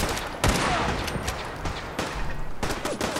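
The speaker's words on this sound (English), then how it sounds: "Someone's shooting at my provisioner, I think." Gunfire in Fallout 4 near Hub City Auto Wreckers, a gunner position firing on a provisioner: loud bursts of shots in quick succession, with a sharp crack at the start and a second volley later, no speech.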